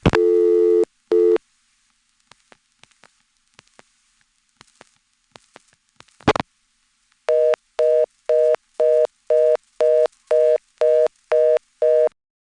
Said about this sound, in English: This time it goes to a connected reorder, in other words, an actual reorder trunk.